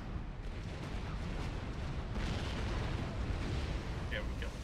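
Explosions and crackling debris from enemy forces being blown up in the Supreme Commander strategy game, a dense continuous rumbling barrage of booms at steady loudness throughout.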